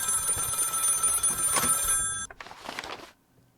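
A telephone bell rings in the horror video game Maid of Sker, a bright repeated electric trill for about two seconds, then a fainter echoing ring before it cuts off, with no talk.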